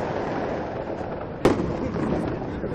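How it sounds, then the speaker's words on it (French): Fireworks go off at the finish of a 2017 charity run arriving at Gustave Roussy, with one sharp, loud bang cutting through a constant background of crowd noise. "Il y a un peu d'artifice."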